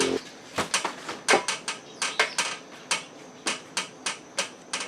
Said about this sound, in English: we're just going to tap it so that the splines coming through aren't hooking that bearing tight